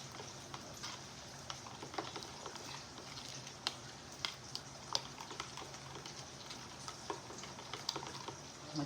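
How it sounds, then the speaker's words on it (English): Spaghetti sauce being stirred in a pot, with a faint, continuous scraping and bubbling texture and scattered light clicks of the spoon, fairly quiet and with no talking. "So now we're gonna stir it up."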